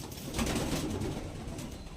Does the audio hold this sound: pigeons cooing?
yes